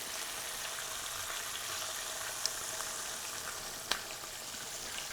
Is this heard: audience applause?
no